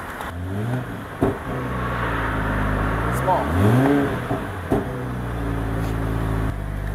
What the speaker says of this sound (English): Let me turn up the engine so you can hear the sound of the car.